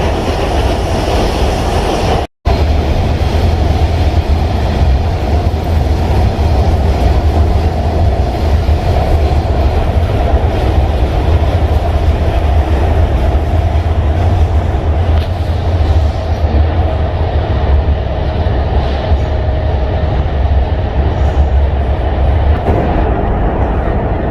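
An underground metro train in Iran rides steadily through its tunnel, a loud continuous rumble with rail noise that carries on throughout, interrupted only by a brief dropout near the start.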